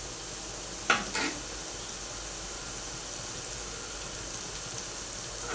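Onions sauté in a pan with salt, producing a faint, steady sizzle with one brief clatter near the start.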